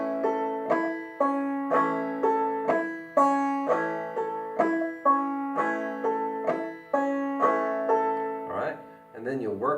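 Banjo picking pattern of a note, a thumb stroke on the 2nd string, a strum, then a thumb stroke on the 5th string, played close and steady as a repeating plucked rhythm, with a quick flourish at the end.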